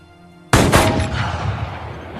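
A sniper rifle fires at a target board: one sharp, loud report bursts out of a quiet background, followed by a second crack close behind and a long reverberant tail that fades slowly.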